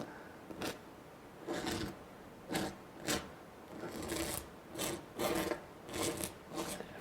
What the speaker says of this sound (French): Je frotte.